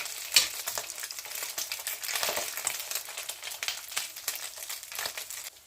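Small tuna omelettes (tortang tuna) fry in hot oil with crackling, spitting sizzle and irregular pops, fairly close and continuous.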